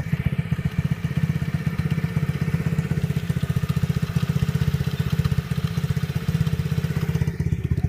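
A Coolster gas dirt bike engine runs steadily, a close, loud, fast rhythmic putter that holds an even idle throughout with a clattering mechanical edge.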